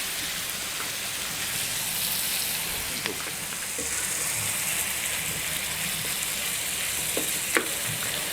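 Finely chopped small tomato frying in a masala on a tawa for chicken fry, a loud continuous close sizzle with a few faint clicks of stirring.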